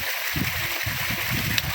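Tender coconut water poured in a steady gurgling trickle, close and continuous, with faint voices around it.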